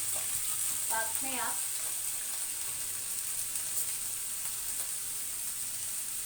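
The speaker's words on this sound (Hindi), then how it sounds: "मैंने पैन में ऑनियन डाल दिया है." About one big onion frying in a pan, a steady bright sizzle running throughout, with a brief stir and someone speaking quietly early on.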